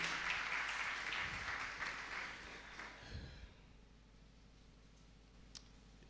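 Church congregation applauding to acclaim the Lord during a Pentecost service, a dense burst of clapping that is loud at first, then thins and fades into quiet room tone by the end.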